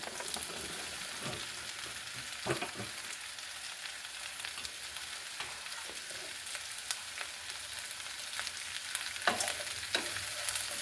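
Squash and zucchini frying with onions and potatoes in a pan, a soft continuous sizzle up close with occasional scraping stir clicks, no voices over it.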